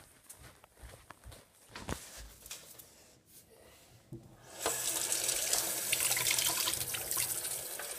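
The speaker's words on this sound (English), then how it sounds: "we're going to use cold water from the sink" Cold water runs from a sink tap, starting faintly amid handling noise, then gushing steadily and fairly loud for the last few seconds with no talking.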